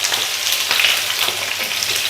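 Small new potatoes with their skins on sizzle steadily in hot vegetable oil in a pan. The hiss is close and continuous, with no voices over it.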